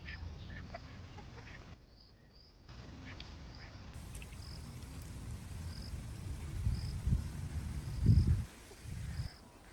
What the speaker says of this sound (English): The 2 ducks swam back and forth, occasionally dipping their heads under the water as if looking for something.